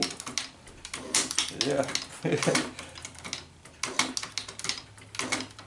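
Shop-built hand shaper cutting metal in a home workshop, its tool scraping in short repeated strokes with clicks and rattles from loose parts, fairly close, with someone speaking briefly over it.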